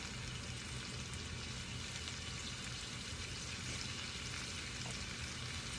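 Onions fry in a pan with a steady, even sizzle, faintly stirred, close and continuous with no voices.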